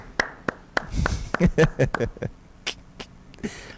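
Scattered claps from an audience at a booster meeting, a handful of sharp, uneven hand claps at close range rather than full applause, with faint voices around them.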